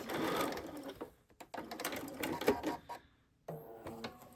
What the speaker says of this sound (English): I'm going to leave my needle down, lift my presser foot, turn my quilt, and sew off.